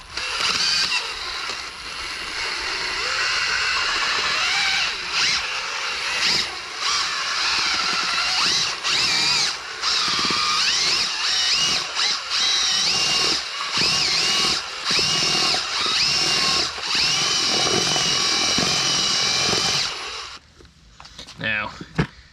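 A power drill with a paddle churns thinset mortar in a bucket, a steady loud whine running almost without a break for about twenty seconds, with brief dips in speed, then cutting off near the end.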